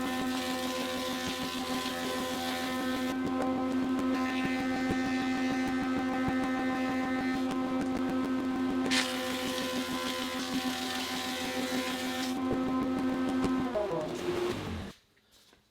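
A Grizzly planer runs loud and steady with a strong droning hum as warped rough-cut lumber feeds through, the pitch changing slightly when boards enter, then the machine spins down and stops at the end.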